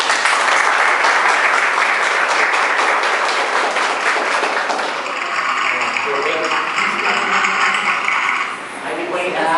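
An audience applauds a guest pedagogue at a talk-show style event, dense clapping filling the room and then thinning into scattered claps near the end, with voices mixed in.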